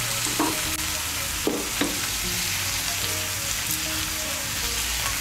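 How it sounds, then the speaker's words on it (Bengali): Chopped spring onion stalks and prawns are stirred in a frying pan, with a steady oily sizzle underneath and a few scraping knocks of the spoon against the pan, close by, without talking. "পেঁয়াজকলিগুলোকে মিশিয়ে নেব।"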